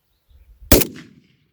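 A single loud, sharp rifle report from a PolyTech Type 81, the Canadian-made Kalashnikov-pattern rifle, cracks out after a moment of quiet and decays quickly into a short low rumble, with no talk over it.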